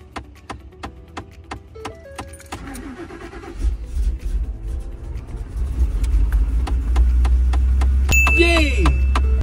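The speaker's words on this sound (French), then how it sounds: "le moteur est parti" A truck engine starts in the cold after a few clicks and whirring cranking noises, then settles into a loud, steady rumbling idle that fills the second half.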